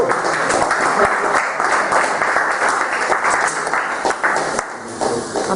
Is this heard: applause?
yes